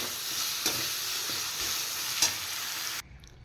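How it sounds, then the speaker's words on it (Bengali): Prawns fry lightly in hot oil with a dense, even sizzle close to the pan and a couple of soft stirring bumps, before the sound drops away abruptly near the end. "এবার চিংড়ি মাছগুলো একটু ফ্রাই করব হালকা"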